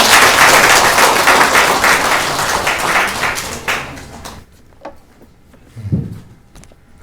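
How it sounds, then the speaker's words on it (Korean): A church congregation claps in encouragement, a loud, dense burst of applause that fades after a few seconds into scattered claps and faint low thumps. "우리 격려의 박수 한번 크게 해주시고요"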